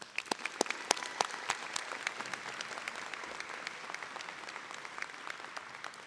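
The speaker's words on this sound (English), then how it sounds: "Let's offer another round of applause for these outstanding graduates." Commencement audience applauds graduates at a medical school hooding ceremony in Jonesboro, with a thin crowd of clapping marked by sharp individual claps up close, quieter in the opening seconds and then settling into a steady patter.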